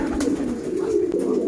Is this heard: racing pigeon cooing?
yes